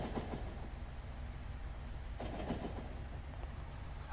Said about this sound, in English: we're just waiting on other trains that are slowly leaving.